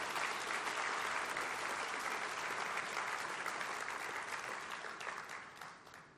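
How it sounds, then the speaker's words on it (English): A crowd at a tourism awards ceremony in Singapore gives a round of applause, a dense, sustained roar of many hands clapping together that holds steady and then thins out toward the end, with no talking over it. "Let's give them a round of applause."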